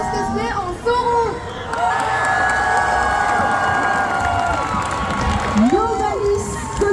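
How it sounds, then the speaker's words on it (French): A crowd cheers and applauds the winner of a Japan Tours cosplay contest, dressed as Sauron from The Lord of the Rings, with sustained loud cheering, whoops and shouts filling the hall alongside clapping. "je demande une tonnerre d'applaudissements pour Novalis Cosplay en Sauron."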